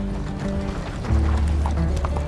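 A horse gallops in Red Dead Redemption 2, its rapid rhythmic hoofbeats steady and close, thickening into a heavier pounding run partway through, with no talking over it.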